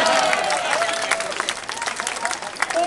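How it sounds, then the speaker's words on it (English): A comedy club audience in Ottawa claps and applauds steadily, a dense wash of hands from a large crowd, loud and continuous throughout. "Here in the capital, you always clap."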